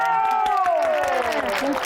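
A Thai TV cooking-show crowd cheers with a high, excited 'yay' over clapping, a loud, close burst lasting under two seconds with voices rising together.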